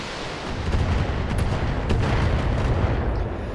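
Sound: missile volley in Battletech video game

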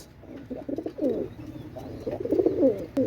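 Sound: Pakistani teddy pigeon cooing

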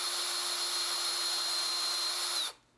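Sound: drill boring through knife blade steel

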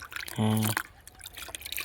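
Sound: irrigation water flowing in field

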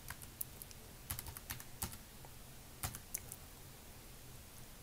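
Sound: typing on computer keyboard

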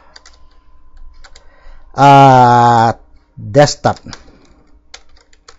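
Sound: typing on a computer keyboard in Notepad

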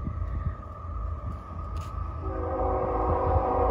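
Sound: CSX train with DPU approaching, horn

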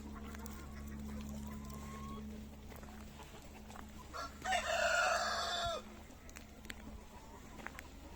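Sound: chickens and rooster crowing

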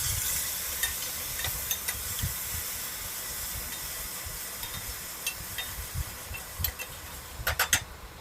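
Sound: spice paste frying with mustard seeds and cumin

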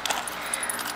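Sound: keys jangling taken out of a bag

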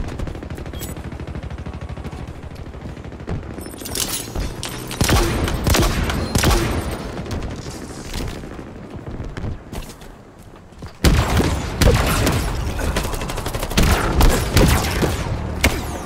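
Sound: Sentinel Beam weapon firing in a video game (Halo)

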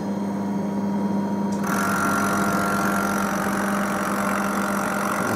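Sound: K40 laser cutter air assist pump running

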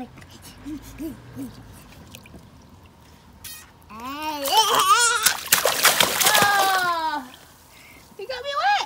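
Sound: splashing water in a pool

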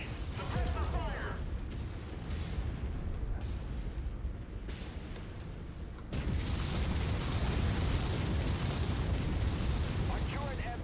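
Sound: explosions destroying a turret air base in MechWarrior 5 video game

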